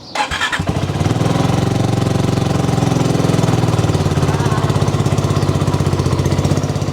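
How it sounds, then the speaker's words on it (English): A BSA Goldstar 650 single-cylinder motorcycle fitted with a Hitchcock's decat pipe fires up after a brief starter crank, then settles into a loud, steady, rapid thumping idle close by. "and then thumb the starter."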